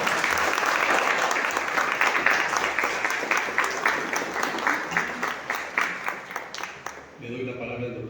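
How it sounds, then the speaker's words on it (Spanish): An audience in a mental health fair auditorium claps steadily, the applause thinning into separate claps before fading out as a voice begins speaking. "vamos a darle un aplauso al doctor Ali Gómez"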